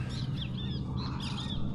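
Small birds, parakeets among them, chirp and whistle in quick repeated calls over a steady broadband wash of outdoor noise at a lagoon in Bacalar, Mexico, moderately near and without voices.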